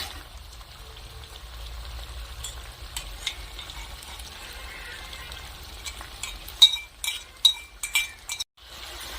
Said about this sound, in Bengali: এখন আমি ফেটিয়ে রাখা টক দই দিয়ে দেব।